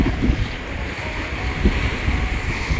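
Wind blowing at Bang Saen beach in Thailand, a loud, gusty rumble buffeting the microphone, with the wash of surf blended underneath and no talking.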